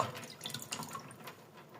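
Sea shells gathered from the sea soak in a container of water, giving soft, close trickling and dripping sounds with no speech.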